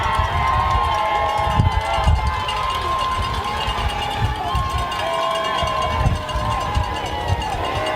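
A crowd cheers and shouts at a youth football championship game, a steady mass of voices with scattered yells and thumps, while an announcer talks over it.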